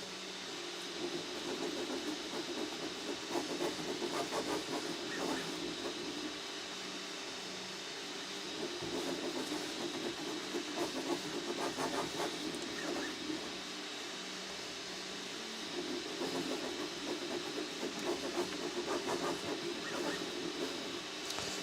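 Steady mechanical whirring and hissing from an Ender 3 V3 KE 3D printer printing continuously, with faint rhythmic stepping motor sounds and soft clicks, fairly close, no talking.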